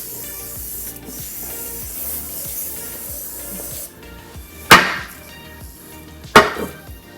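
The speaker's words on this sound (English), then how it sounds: "I am going to spray it." Hair spray mists onto the light curls of a wig, two short hissing bursts close by, with soft handling and rustling before them.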